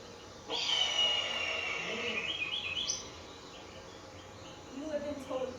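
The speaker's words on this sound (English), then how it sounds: "Contrast, this is the red-tailed hawk." A red-tailed hawk's call plays as a recording: one long, hoarse, descending scream that holds for about two seconds and then fades, with quieter chirping after it and background noise throughout.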